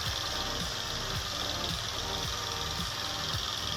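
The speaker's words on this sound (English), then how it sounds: "Hear those engines strain together, a powerful symphony of mechanical might." A bulldozer and a logging truck strain together, their engines giving a steady, heavy low rumble with rhythmic knocking pulses, continuous and fairly close.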